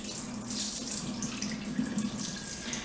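Water runs steadily from a tap over rice in a bowl as it is rinsed, a constant splashing stream with light swishing, close and fairly quiet.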